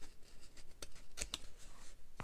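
Scissors snipping the inked edge of a journal page, two or three crisp cuts close up in a quiet room, the sharpest pair landing near the middle with a softer snip before them.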